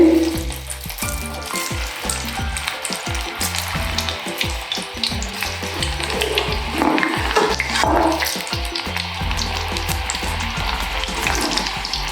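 Cauliflower 65 pieces frying in hot oil make a steady, loud sizzle with crackling bursts that run through the whole stretch, with no talking.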